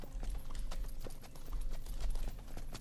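Horse hooves clip-clop at a steady walking rhythm in the medieval game Rustler, close and continuous, with a faint horse whinny and low game ambience underneath.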